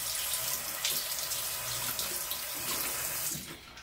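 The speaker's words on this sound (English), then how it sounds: "The first thing I usually do is just wet the tips of all the brushes." A bathroom or kitchen tap runs steadily as makeup brush tips are wetted before washing with Dr. Bronner's soap, a loud continuous splashing stream that eases off at the very end, with no talking.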